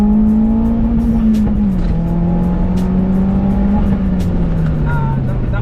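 A modified Vauxhall Astra VXR accelerating hard on a 0-60 run, its engine droning loud and close in a steady, slowly shifting tone with brief tyre noise, while someone talks over it.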